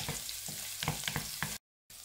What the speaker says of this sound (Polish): smażymy czosnek, aż zmieni taki na trochę żółty kolor.